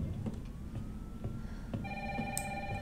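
Electronic telephone ringing in a tense indoor scene of the Resident Evil 3 video game, a steady bright ring that starts partway through over a low rumbling game ambience.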